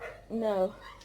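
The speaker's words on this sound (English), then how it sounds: "Please excuse the dogs." A dog gives a single short, yelping bark, close by and briefly, during a home video call.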